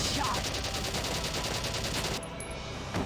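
Rapid, sustained automatic gunfire from a battlefield in the video game Valkyria Chronicles, a dense rattling stream of shots filling the whole stretch, slightly thinning near the end.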